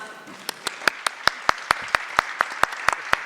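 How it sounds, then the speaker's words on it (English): A string of sharp, evenly spaced claps rings out, fairly close and steady, like a small group applauding briefly, at a conference session. "Yes, let's applause all."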